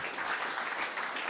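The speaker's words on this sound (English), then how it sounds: "round of applause for Yanis" Audience applause for a speaker at a conference, a steady wash of many hands clapping at moderate loudness for just over a second, with no voices.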